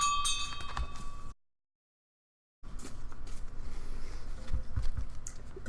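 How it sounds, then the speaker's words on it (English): A bell rings at a candlelight church service: a clear tone rings out and fades over about a second before a short gap, followed by quiet room noise with soft scattered taps. "Give them a bell ring."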